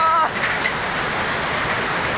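River water rushing beneath a footbridge over the Sabha Khola in hilly Nepal, a steady loud broadband roar with a brief tonal chirp at the very start.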